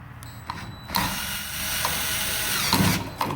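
A Craftsman 4V cordless screwdriver backing out flathead terminal and ground screws, a continuous whirring motor drone with ratcheting clicks and small bumps as the bit engages, close by and without talk.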